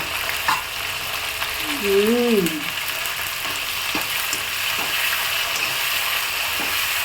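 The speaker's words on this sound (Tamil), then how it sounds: "சின்ன வெங்காயம் பூண்டு பெரிய வெங்காயம் கருவேப்பிலையை நல்லா வந்துட்டு எண்ணெய் சுருள்ற அளவுக்கு நல்லா வதக்கிக்கணும்" Shallots, garlic, large onions and curry leaves sauté in hot oil for vatha kuzhambu, giving a steady close sizzle with light stirring scrapes throughout.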